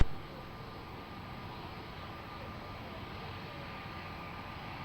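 Airplane departing Lisbon Airport, a steady broadband engine roar held at an even level throughout, with a constant whine running above it and no voices.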